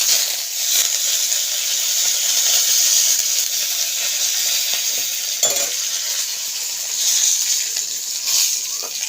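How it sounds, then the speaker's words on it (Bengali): Curry leaves hit hot oil in a kadai wok after dried red chillies, giving a loud, continuous sizzling hiss with scattered crackles and the occasional scrape of stirring. "তেল কড়াইটার মধ্যে দিয়ে দেবো কারি পাতা"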